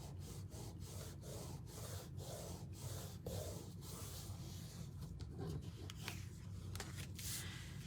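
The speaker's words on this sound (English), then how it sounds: "We're just going to rub that really good. We want to burnish that so that it holds." Repeated rubbing strokes burnish a die-cut card piece for a split texture card, producing steady scratchy friction sounds in a regular rhythm, close and moderately loud with no talking.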